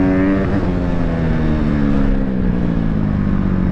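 An off-road vehicle races flat out in fifth gear, its engine droning loud and close as the revving pitch shifts and slowly sinks. Wind and terrain noise fill the background.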